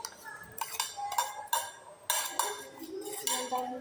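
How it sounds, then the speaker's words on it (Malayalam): Metal spoon clinking against a bowl while mixing, a series of sharp clear taps at an uneven rhythm, close by, with faint background noise and no talk. "ഞാൻ ഇനി ഒന്ന് മിക്സ് ചെയ്യട്ടെ"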